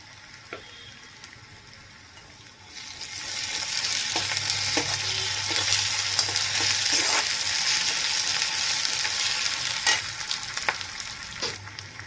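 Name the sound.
onions and ginger frying in a pan for tomato curry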